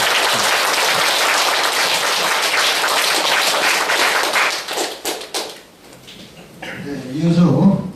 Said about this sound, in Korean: 다시 한번 노고의 감사의 박수를 좀 부탁드립니다